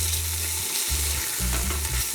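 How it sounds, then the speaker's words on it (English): Frozen garlic and chili fry in oil at a campsite cookout, a steady close sizzle with the crackle of thawing pieces hitting the hot pan. "It's thawing and frying a bit in this oil."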